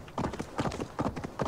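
Horse hooves clip-clopping in Assassin's Creed Valhalla, a steady rhythmic run of close, loud hoofbeats in quick groups of four, with no talk over them.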